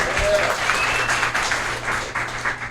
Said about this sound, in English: Give it a round of applause to Alpin.